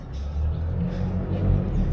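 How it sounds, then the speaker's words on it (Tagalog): Cars drive through the Asin Tunnel, their engines and tires making a steady, loud, echoing rumble that swells slightly as vehicles pass close by. "Maraming mga sasakyan."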